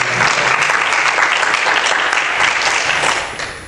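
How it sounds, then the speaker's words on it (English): An audience at a Greenville forum on Black male unemployment claps steadily in a dense, even burst of applause that fills the room and fades slightly at the end. "Let's give a round of applause."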